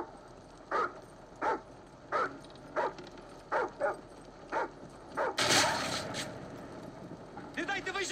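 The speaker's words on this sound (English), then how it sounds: "We have dogs." Dogs bark in a video game's survival mode, eight or so sharp barks at a steady rhythm, followed by a loud burst of gunfire or an explosion and more noise.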